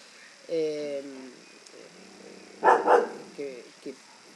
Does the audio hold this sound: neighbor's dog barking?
yes